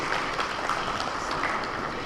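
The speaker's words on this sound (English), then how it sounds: "Mr. Pankaj Rastogi, with a huge round of applause, ladies and gentlemen, to say a few words." An audience at an inaugural session bursts into applause, a brief, dense patter of many hands clapping at moderate volume, with no voices over it.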